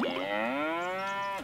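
A cow moos once while being milked in the Farmers Life video game, a close, drawn-out lowing call with a rising pitch that sustains for over a second before tapering off.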